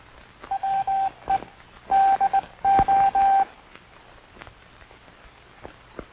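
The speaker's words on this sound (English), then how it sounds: "Listen to the sounds of the key. These sounds are transmitted in International Morse Code." Hand-operated telegraph key sending International Morse Code as a steady tone in short and long bursts, forming a few grouped characters with gaps between them, clear and alone against a faint background hum.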